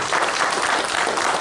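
An audience at a speech claps in dense, sustained applause, loud and even throughout, with no voices over it.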